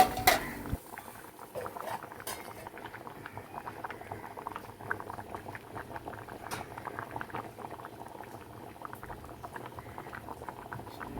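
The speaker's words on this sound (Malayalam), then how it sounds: "ഞണ്ടത് നന്നായിട്ട് തിളച്ച് വന്നിട്ടുണ്ട്" Kerala crab curry with coconut bubbling in a pot, a soft continuous patter of boiling liquid, quiet and close, after a brief clink at the start.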